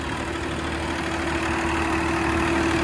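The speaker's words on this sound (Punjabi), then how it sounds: "ਦੇਖੋ ਟਰੈਕਟਰ ਚੱਲ ਰਿਹਾ" A Swaraj 969 tractor engine, fitted with a 9-foot rotavator, idles steadily and loudly close by, a constant low rumble with a humming drone and no voices.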